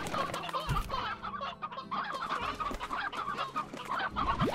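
Chickens in the video game Slime Rancher cluck repeatedly. The close, steady chatter of several hens continues throughout, with no talking.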